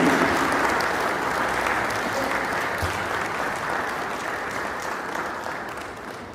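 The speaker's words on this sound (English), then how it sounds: "keep the engagement going, the round of applause going till the gentleman comes on stage" Audience applause at a remittance summit, a dense sustained clapping from a large crowd that fades slowly over several seconds.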